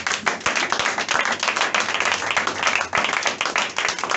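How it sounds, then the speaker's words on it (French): A church congregation at a Sunday service in Gabon claps and applauds, loud and steady for the whole stretch, with many hands beating densely together and no voices rising above it. "Est-ce que tu peux acclamer le Seigneur?"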